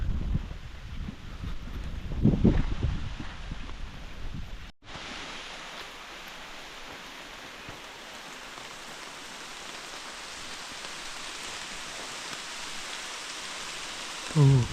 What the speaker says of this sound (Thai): ฝนมันตกตลอดเลยนะ